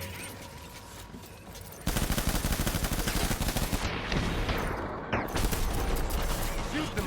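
Rapid, sustained automatic gunfire in the Death Stranding video game, a dense continuous rattle that starts abruptly partway through and keeps going at high volume, with a voice speaking underneath.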